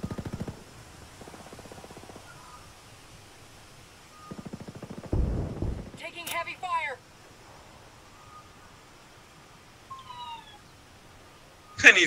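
Gunfire in a Ghost Recon Wildlands match comes as short rapid bursts of shots, fairly distant and modest in loudness, separated by quiet gaps, alongside bits of other game sounds and voices.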